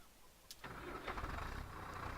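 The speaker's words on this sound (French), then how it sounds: "c'est quand même un beau petit bruit de tracteur" A tractor's diesel engine cranks and catches after a short click, then settles into a steady, rumbling idle close by.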